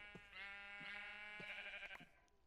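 A blocky Minecraft sheep bleats in repeated wavering cries, three or four bleats in a row, close and clear with nothing else over them.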